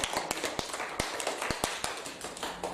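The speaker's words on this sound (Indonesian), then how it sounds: "tepuk tangan dulu yang sudah menyampaikan" A small group claps in sparse, uneven strikes, loud and close, with individual hand claps standing out against a thin background.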